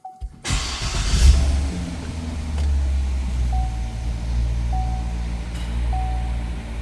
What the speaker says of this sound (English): Now let's fire up the Corvette, and I'll show you what it looks like.